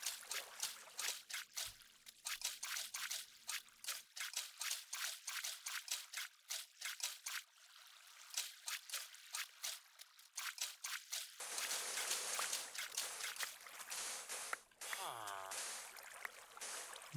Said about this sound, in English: next I just need to fill this whole canal with water